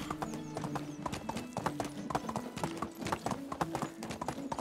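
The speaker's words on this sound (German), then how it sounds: "Schönes Pferd. Und damit reite ich jetzt los" Horse hooves clip-clop in a quick, steady rhythm while riding in Medieval Dynasty, close and clear, with a faint background tone beneath the hoofbeats.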